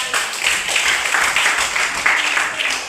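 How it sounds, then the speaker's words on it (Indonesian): Students in a classroom break into steady group clapping, a dense, even patter of many hands close by that fills the whole moment. "kita kasih tepuk tangan buat materi"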